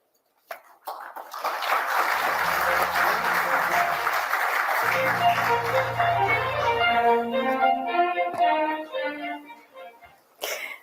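An audience at the Ramnath Goenka Excellence in Journalism Awards breaks into sustained applause, many hands clapping loudly for about ten seconds before it fades out.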